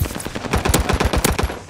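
Automatic gunfire from a first-person shooter video game rattles out as a loud, rapid, continuous burst of close shots.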